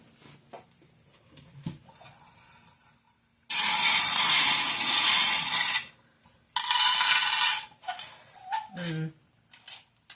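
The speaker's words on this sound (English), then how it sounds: "We'll pull some charms for symbolism before we get into the messages of the cards." Small metal charms are shaken and poured out for a reading. Two long bursts of bright jingling rattle stand out, with softer clicks and clinks between them, close up and without talk.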